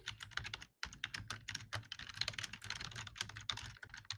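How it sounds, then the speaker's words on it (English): Noisy typing on a computer keyboard, rapid irregular clacks close by, one brief pause early, then continuing bursts of keystrokes, faint and alone. "He's typing noisily."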